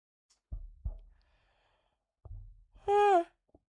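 A person yawns close to the microphone: a couple of soft breaths and low vocal rumbles, then a drawn-out, loud, tonal exhale that falls in pitch before stopping.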